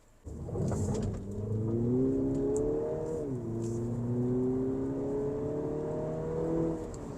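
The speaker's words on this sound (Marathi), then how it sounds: "आता एकदा आपण गाडी चालूया" A 2024 MINI Cooper S pulls away and accelerates, its engine note climbing steadily through a gear change around the middle and rising again, heard from inside the car with no talk.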